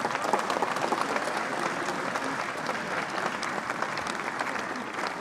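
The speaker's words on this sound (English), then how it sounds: "A round of applause." Sustained applause from a conference audience as the 3i Africa Summit 2024 is declared closed, dense even clapping from a large crowd filling the room at steady volume.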